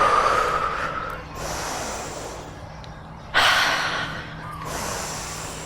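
Heavy, forceful breaths during a home workout with burpees, two loud exhale bursts a couple of seconds apart, each followed by softer panting.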